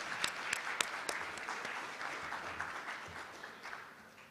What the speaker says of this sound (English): please join me in giving them a hearty round of applause